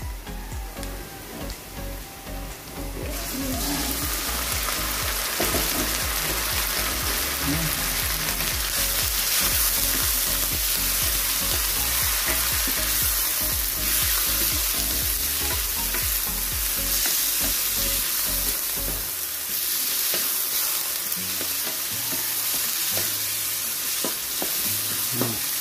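Thinly sliced beef sautéing in a pan, a loud continuous sizzle with stirring and scraping, steady throughout with no talk.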